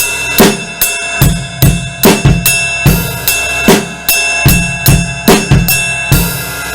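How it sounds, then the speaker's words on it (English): A drum kit plays a steady repeating beat from a song: crisp crashes over punchy snare hits and thumping bass drum, loud and close with no talking. "So crash and snare and bass, bass, snare, bass, and crash."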